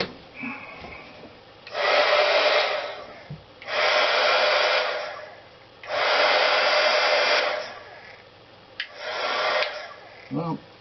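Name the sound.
HG-300D heat gun running after repair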